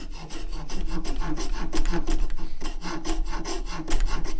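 A hand file rasps steadily across a wooden guitar neck being shaped by hand, with quick, even back-and-forth strokes that are close and loud and continue without a break.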